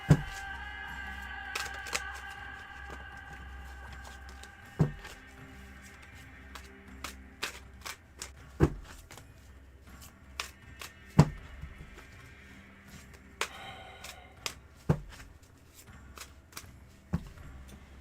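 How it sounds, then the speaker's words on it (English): Tarot cards being shuffled by hand during a reading, heard as repeated sharp riffling bursts and taps spaced irregularly across a quiet background, close and fairly soft. "Let me do a cleansing shuffle here, okay?"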